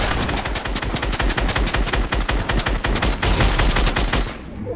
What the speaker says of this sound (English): Just trying to shoot him.